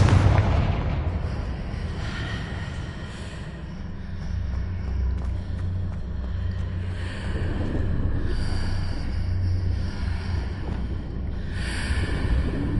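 Confringo fire-blast spell in Hogwarts Legacy, a loud booming explosion at the start that rolls into a long, rumbling low roar with crackling bursts and a second swell near the end, no speech.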